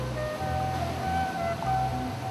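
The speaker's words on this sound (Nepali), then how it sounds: "मर्स्याङ्दी आफ्नै सुरमा सलल बगिरहेको थियो" The Marsyangdi river in northern Lamjung flows with a steady, full rushing roar, continuous and even throughout, with no voices.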